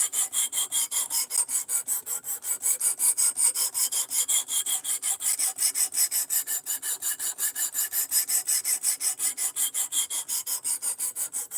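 Steady back-and-forth rasp of a knife blade being drawn across a sharpening stone on a $250 sharpening rig set at 17 degrees, each stroke evenly spaced in a fast continuous rhythm, close and alone with no talk.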